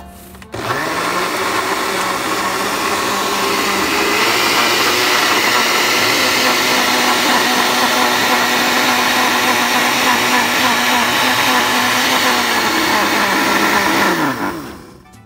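A blender whirs steadily for about fourteen seconds while blending an organic chocolate banana milkshake, the lidded jug holding a loud, even motor drone that starts abruptly and winds down at the end, with no voices over it.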